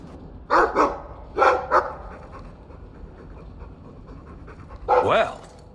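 A dog in the video game Dragon Age 2 gives a few short barks and panting huffs in two quick pairs, then a louder whining yelp near the end, fairly close, with quieter ambience between.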